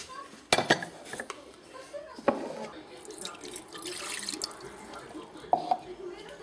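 Mint mash and water poured into a small pot while making homemade mint syrup, with clinks and knocks of metal cookware, a soft watery pour and splashes, and a few sharper clatters close by.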